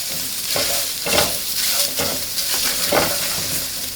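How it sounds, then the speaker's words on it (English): Potatoes for aloo ki sabji being stirred in a pan with no oil, a steady sizzle broken by rhythmic scraping swishes of the spoon roughly every half second. "I'm gonna throw my potatoes in there. And now what I'm gonna do is switch them around."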